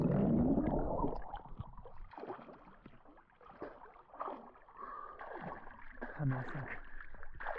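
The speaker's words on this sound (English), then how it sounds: "So let's go in for a swim here in this beautiful natural lake in Stockholm" A swimmer splashes and moves through the water of Gladö Kvarn, a natural lake near Stockholm. The sloshing is loudest at the start and then continues as softer gurgles, with a voice speaking briefly.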